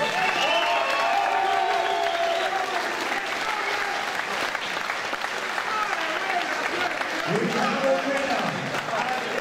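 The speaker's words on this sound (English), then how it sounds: "Give these guys a massive round of applause." A crowd at an Impact Fight UK event applauds the fighters after the battle of the night, sustained loud clapping and cheering from a large audience, with voices shouting over it near the end.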